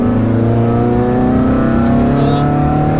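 Renault Clio 182 engine held at a steady 3,000 RPM in third gear, a loud, continuous in-car drone with strong harmonics rising slightly, heard from inside the cabin.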